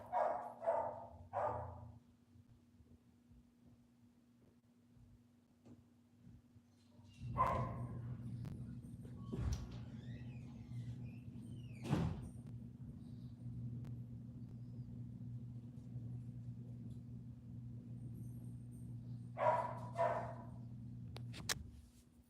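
A dog barks in short bursts at the start and again near the end, somewhat muffled, over a steady low hum with a few thumps in between.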